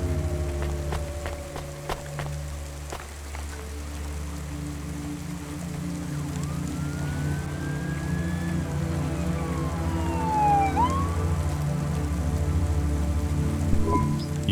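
Police sirens sweep and wail in the rainy streets of the video game Cloudpunk. Several rising and falling tones sound at a moderate distance over steady rain and a low engine hum, with no voices.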